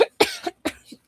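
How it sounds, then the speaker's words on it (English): An audiobook narrator performs a cough, three or four short, close, voiced coughs in quick succession, alone without speech. "coughed a few times"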